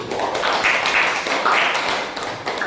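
Classroom of students clapping for a student group after its presentation, a dense continuous patter of hands at close range lasting the whole moment, with faint voices mixed in.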